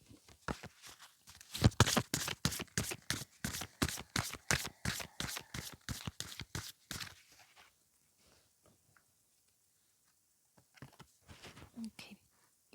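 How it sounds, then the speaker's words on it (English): Tarot cards being shuffled close up, a rapid run of crisp riffling flicks for about seven seconds, then near quiet with a few soft card taps and rustles toward the end. "Let's keep shuffling"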